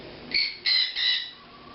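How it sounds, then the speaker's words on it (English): Three short, shrill bird squawks in quick succession, fairly close, over a quiet background. "There's my parrots again."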